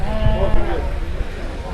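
Lambs and rams bleating at a busy livestock market, several loud overlapping bleats close by, mixed with people talking in the background.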